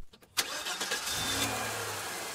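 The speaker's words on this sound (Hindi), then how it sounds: "इंजन का शोर भयानक सन्नाटे में एक कर्कश आवाज की तरह था।" A car engine starting up and settling into a steady medium-pitched running drone on a dusty road through a forest, the rumble close and continuous after a brief sputter at the start.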